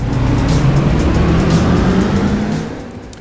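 Big gun-armed trucks race in the mobile video game Carnage Racing, a loud, steady engine roar with passing and revving motor noise, holding level before fading toward the end.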